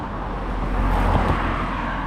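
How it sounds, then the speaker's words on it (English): A car passes close by a runner on a country lane in the West Pennine Moors, its steady road rumble swelling to a peak mid-way and holding loud with no voices. "the amount of traffic that comes past"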